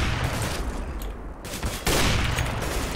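Dense, rapid gunfire from a Counter-Strike: Global Offensive match, loud bursts of automatic shots packed together with a short dip midway, no speech.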